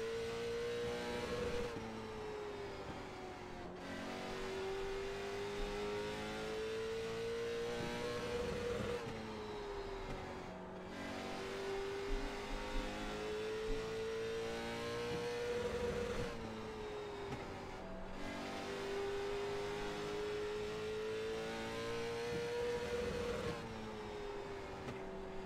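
Late model stock cars roar around Southern National Motorsports Park, engines rising and falling in repeating laps as they rev and pass, loud and continuous with no talking.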